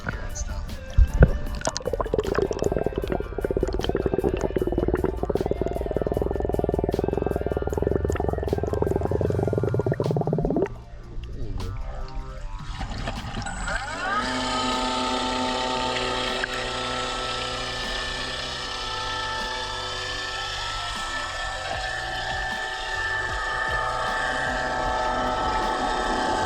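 Sublue underwater scooter running underwater, a steady muffled motor whine with bubbling and sloshing, shifting midway to a brighter, busier churn as it moves along.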